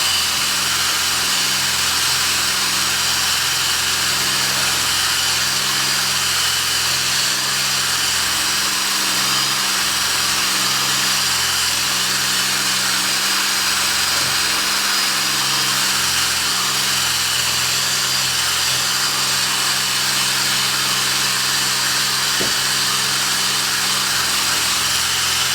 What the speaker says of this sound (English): It puts a residue on it when you're polishing it, but it polishes it off very quickly.